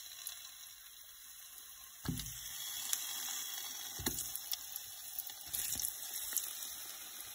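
Aubergines dropped into hot oil for a fish soup set off a sudden sizzle that flares again at intervals, then settles into a steady, fairly quiet frying hiss with no talk.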